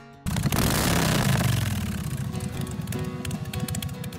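A motorcycle engine fires up abruptly after a quiet moment, bursting loud at first, then settling into a rough, pulsing idle close by.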